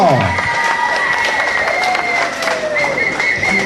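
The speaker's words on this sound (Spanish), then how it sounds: "Señora Ivonne Paul, recibir un aplauso" Audience clapping and cheering at a mariachi festival in Rustenburg, lively crowd noise with shouts and whistling tones layered over steady applause, loud and close.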